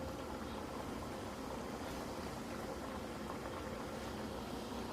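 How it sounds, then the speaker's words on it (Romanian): Chicken crispy strips frying in hot oil, a steady, even bubbling hiss that runs unbroken and fairly quiet throughout, with no voices over it. "Astea le prăjim cam vreo 2 minute pe o parte și 2 minute pe cealaltă"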